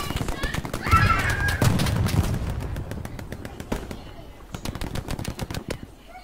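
An MG42 machine gun in Hell Let Loose fires in rapid sharp bursts, loud and close, with quick cracks trailing into scattered shots and some distant gunfire, and a voice briefly mixed in.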